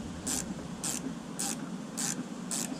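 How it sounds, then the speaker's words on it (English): A T25 screw being driven into a plastic Volvo S70/V70 door panel, five evenly spaced short scratchy ratcheting bursts, quiet and close, with brief pauses between each turn. "Let's reinstall this T25. Don't forget it's screwing into plastic."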